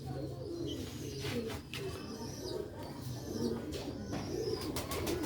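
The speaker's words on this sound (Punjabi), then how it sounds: "ਵੱਡੇ ਸਿਰਾਂ ਵਾਲੇ ਮਾਸ਼ਾਅੱਲਾ ਕਬੂਤਰ ਨੇ ਇਹ ਪਰਪਲ ਸ਼ੇਡ ਦੇ ਨੇ" Big-headed purple-shaded pigeons cooing at close range in a loft, with overlapping low throaty coos repeating steadily and faint chirps, at moderate volume with no talk.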